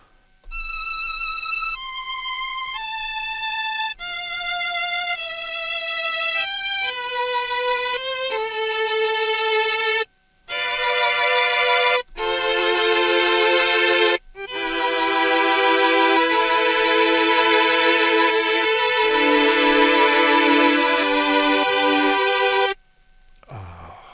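A Mellotron tape-replay keyboard, each key starting a motor that pulls tape past the playback head, sounds sustained flute-like and string-like tones in stepping melodic lines and held chords, loud and alone, with brief dropouts between phrases.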